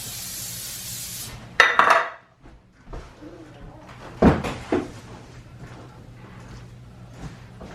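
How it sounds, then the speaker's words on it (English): Metal cupcake pans clatter and knock together in two separate bursts of handling, with quieter movement and a faint voice in between. "So I have 2 cupcake pans."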